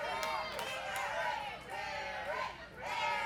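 Wrestling arena crowd at a Christian Wrestling Federation event, a dense roar of many voices rising and falling in rhythmic chant-like swells behind a commentator talking over it.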